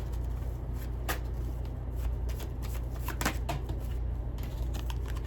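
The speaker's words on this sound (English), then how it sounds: "I shuffled this deck, and I have a really big deck" A large deck of tarot cards is shuffled up close, quiet repeated riffling with sharp crisp snaps of cards at irregular intervals over a low steady room hum.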